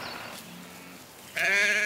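Sheep bleat loudly near a pen at the end of a day of clearing kudzu, one clear bleat after a quieter stretch of distant farm noise.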